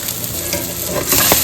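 A smashed burger patty sizzles loudly on a hot surface while cheese melts on top, a dense continuous crackle that swells louder toward the end, with a few scraping stirs.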